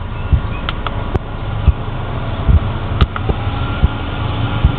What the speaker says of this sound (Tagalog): Additional cooling fan doon, no?